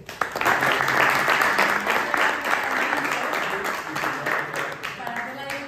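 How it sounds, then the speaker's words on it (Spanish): An audience at a Spanish meetup talk gives Antonio sustained applause, steady and fairly loud, with a few voices faintly mixed into the clapping. "un pequeño aplauso para Antonio"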